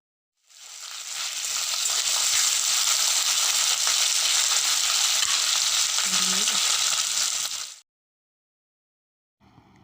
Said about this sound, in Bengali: এখানে তৈরি হচ্ছে ফুলকপি আলুর তরকারি।